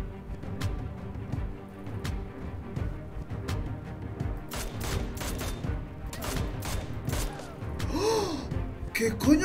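Repeated gunshots crack in irregular bursts over a low, busy background, with faint breathy vocal sounds near the end.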